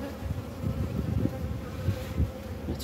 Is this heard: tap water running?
no